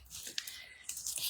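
Crinkly plastic being torn and pulled at, with a few sharp rips and rustling bursts, close up.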